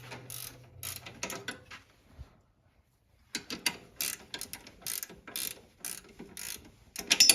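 A ratchet wrench clicks in quick bursts on a car with a 350 engine, pausing into near silence before resuming in faster, uneven runs of sharp pawl clicks and metallic rattles, close and fairly loud.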